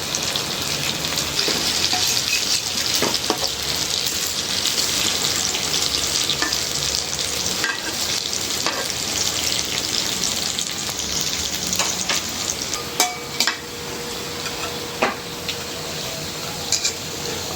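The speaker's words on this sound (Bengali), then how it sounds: "একদম জাল কমায় ভাজতেছি লাল লাল করে ভাজবো" Bora fritters deep-frying in oil over a low flame, giving a steady, close hiss of bubbling and sizzling that runs without a break, with a few small clinks and pops scattered through it.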